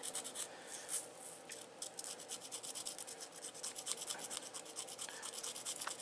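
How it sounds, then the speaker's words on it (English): Fast, scratchy rasping strokes repeat steadily at close range, fine abrasive scuffing the chitin shell on the back of a cockroach's head. "we're going to scuff up chitin on the back of the head"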